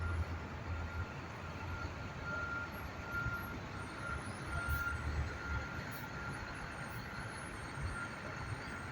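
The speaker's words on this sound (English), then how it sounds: "Truck is turning." A truck turns on a Brooklyn street near the river in Sunset Park, its reversing alarm beeping steadily over low engine rumble and constant traffic noise, with no talk.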